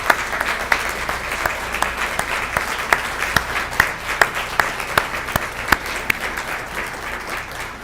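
Audience applause honors city staff at a State of the City presentation: a sustained wash of clapping with distinct sharp individual claps, moderately loud and fading slightly toward the end.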